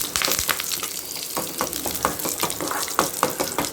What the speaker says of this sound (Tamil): இப்போ இதில் கருவேப்பிலையை சேர்த்துக்கலாம் கருவேப்பிலை நல்லா பொரியட்டும்